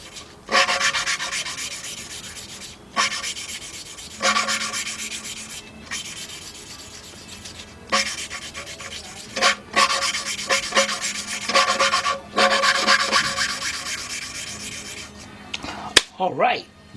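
Engine valves being lapped during a 3.7-litre 2003 Jeep Liberty rebuild: repeated gritty rubbing strokes of valve against seat, close and loud, in bursts separated by short pauses, ending with a brief clack.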